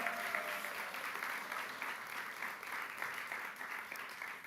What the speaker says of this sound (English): Can we get another round of applause for everyone who...